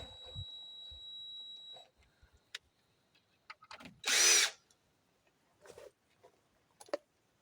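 A power drill runs in short bursts, changing to longer screws during block work home improvements, with a high electronic whine at the start, then one loud whirring burst and a couple of brief spins among quiet handling noises.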